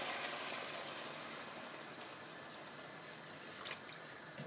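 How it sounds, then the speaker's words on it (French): Water poured into a pot of caramel pork makes a soft, steady rushing hiss that continues evenly without a break, faint and close, with a small clunk at the very end. "On va le recouvrir d'eau."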